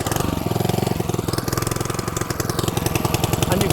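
An Allett Classic cylinder lawn mower's small engine idles with a steady, rapid chugging putter, loud and close, running evenly with no voices.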